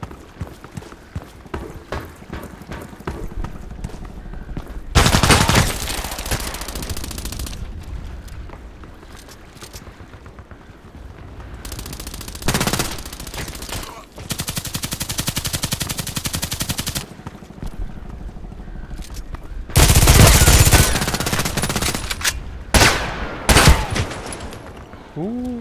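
Kedr submachine gun fire in the shooter Contract Wars, loud rapid bursts of automatic gunfire that come in several long volleys and shorter spurts, with quieter gaps between them where faint game noise carries on.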